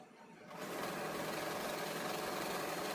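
A sewing machine stitches a pico edge and fall onto a sari, starting after a brief quiet moment and then running as a steady, even whirr at a slow, careful pace, with no talking.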